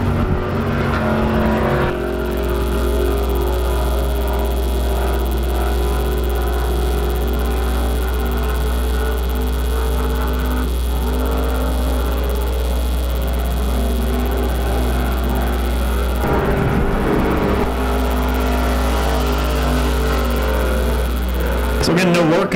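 An IMCA stock car at Arizona Speedway runs on track during afternoon qualifying, a steady loud engine drone with a deep constant hum, rising and falling slightly as it laps, with commentary over it.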